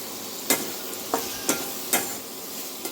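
A whole tomato and salt in a frying pan give a soft hiss, broken by four sharp clacks of a spatula against the pan at roughly half-second intervals.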